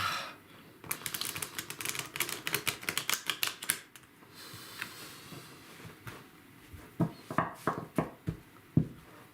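A tarot deck being shuffled in quick riffling bursts, close and quiet, with a flurry of crisp card flicks at the start and sparser snaps toward the end.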